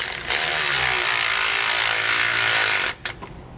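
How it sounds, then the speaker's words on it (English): A power tool with a 16 mm socket whirs loudly and steadily for about three seconds while tightening a bolt on a rear anti-sway bar installation on a 2011 Tiffin Allegro motorhome, then cuts off abruptly followed by a few faint clinks. "We can then go back and tighten down our hardware. We're going to use a 16 millimeter socket for the bolt"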